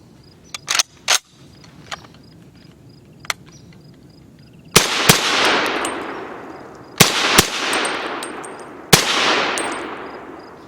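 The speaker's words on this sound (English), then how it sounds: "They fire exactly the same way an AR-15 fires, and I'll show you." Semi-automatic rifle fired like an AR-15, single sharp shots: a few quieter reports early, then three loud blasts spaced about two seconds apart, each leaving a long echoing decay outdoors.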